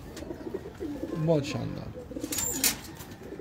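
Breeder and high-flyer pigeons coo close by, soft rolling throaty calls repeating over a few seconds while someone speaks over them.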